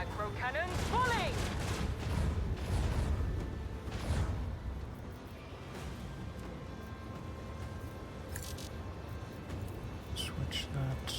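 Starship micro cannons fire in the Warhammer 40,000: Rogue Trader video game, heavy rumbling bursts and booms in quick succession, with faint voices underneath.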